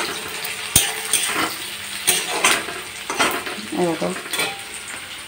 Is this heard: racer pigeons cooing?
no